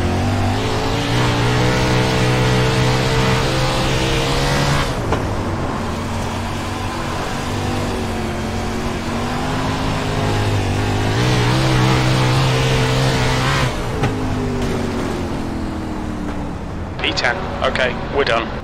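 Fixed outlaw sprint cars roar around a track in the Stars & Stripes series, engines loud and rising and falling as they pass and rev, with a voice talking over the noise.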